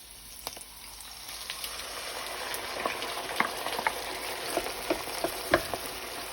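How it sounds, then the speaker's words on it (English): Garlic and tomatoes saute in a pan with a soft, steady sizzle, scattered small pops and crackles, and occasional light stirring clicks, fairly quiet and without talk. "as we have sauteed this for almost 2 minutes"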